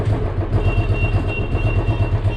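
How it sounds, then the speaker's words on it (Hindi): An old Royal Enfield Classic 350 motorcycle with a stock silencer idles steadily in neutral close by, a low, even putter with a faint whine above it, no voices. "सो बाइक हो गई स्टार्ट"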